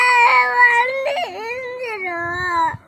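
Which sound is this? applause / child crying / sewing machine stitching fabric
child crying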